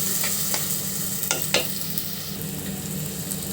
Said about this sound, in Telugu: బాగా మిక్స్ చేసి బాగా పచ్చి వాసన పోయే అంతవరకు వేయించుకోవాలండి.